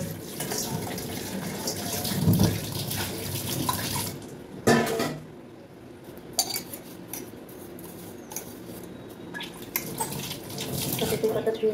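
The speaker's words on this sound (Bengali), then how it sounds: "তেলপাতা ধুয়ে রাখলাম" Leaves being washed under a running kitchen tap, with a steady rush of water, splashing and occasional clinks of utensils, interrupted by brief pauses, close by, with some background voice activity.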